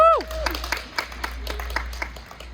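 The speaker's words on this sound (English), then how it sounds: "Give her a round of applause." Guests at someone's 89th birthday party clap in a scattered round of applause after a rising whoop, with crowd noise and a voice over the clapping.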